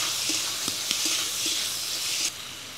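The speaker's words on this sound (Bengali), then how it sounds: "ওই সামান্য পরিমাণ তেলের মধ্যেই দিয়ে দিব পেঁয়াজ" Onion frying in a small amount of oil left from browning chicken, a steady close sizzle and hiss with a few soft stirring clicks, dropping slightly quieter near the end.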